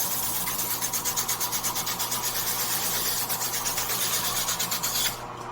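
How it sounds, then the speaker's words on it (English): A Cubitron sanding disc machine grinds thin wood stock with a steady, rasping scrape that pulses rhythmically as the piece feeds through, close and continuous, with a hum underneath, before the scraping drops away at the end. "Now, I turn the machine on, and I feed my stock in there. What happens is this is now sanding it down."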